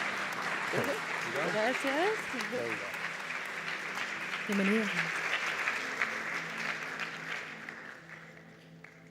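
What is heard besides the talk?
audience applause welcoming a speaker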